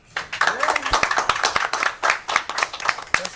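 Audience applause for a co-host on a local television show, a short burst of sharp, fairly close claps, with a voice talking over it.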